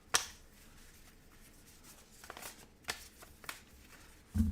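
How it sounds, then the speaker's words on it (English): Board game cards from a deck of familiar cards in a solo tabletop game are shuffled by hand, giving a series of short papery riffles and snaps at a moderate, close level, with a louder thump at the very end. "We have a boatload of familiars that we will shuffle up."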